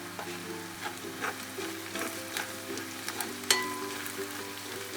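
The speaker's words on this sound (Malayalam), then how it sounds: "നന്നായി വഴറ്റുക." Chicken roast sautéing in a pan with pepper powder and meat masala, giving a quiet steady sizzle broken by soft scraping stir strokes at irregular intervals, with no talking.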